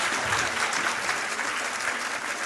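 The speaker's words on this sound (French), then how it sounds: "Oui, vous pouvez aussi l'applaudir." A crowd at a DEUST diploma graduation ceremony claps loudly and steadily. The applause is dense and continuous across the whole stretch.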